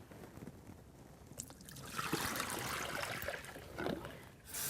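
Water is emptied from a basin into a sink, a soft trickle growing into a steady splashing pour in the second half, close and moderately loud, with no speech.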